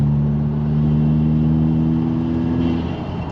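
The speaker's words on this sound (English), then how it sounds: "You hear we got some nice induction noise coming from that turbo." A turbocharged Subaru WRX fitted with a Perrin cold air intake and aftermarket exhaust idles steadily with a low exhaust drone and a faint whooshing intake hiss, close and continuous.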